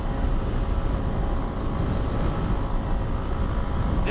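Heavy steady wind roar buffets the microphone while riding a Suzuki DRZ400S dual sport motorcycle on the road at about 70 mph, a dense continuous rush with engine drone buried beneath and no talking.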